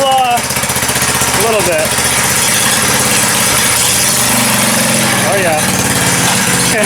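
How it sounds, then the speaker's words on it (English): A Motovox mini bike fitted with a swapped Briggs engine runs loudly up close, a rapid chugging small-engine clatter with a couple of brief revs, while people talk over it. "The Motovox is running."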